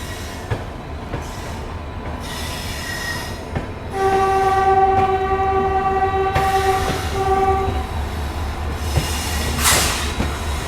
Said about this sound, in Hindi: अपनी गंगा सतलज एक्सप्रेस निकल चुकी है फिरोजपुर कैंट जंक्शन से